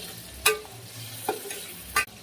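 Garlic sautéing in a pan gives a soft, steady sizzle, broken by three sharp scrapes or clinks of a spoon stirring at intervals.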